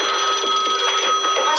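A telephone ringing indoors, a steady bright trilling bell held for the whole moment at moderate loudness, with no voices over it.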